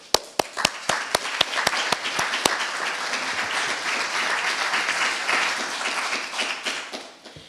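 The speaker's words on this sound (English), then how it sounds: "A big hand of applause to all those who helped to get you here." Enthusiastic applause from a crowd at a graduation ceremony, starting with a few sharp distinct claps that quickly merge into a dense, steady wash of clapping lasting several seconds.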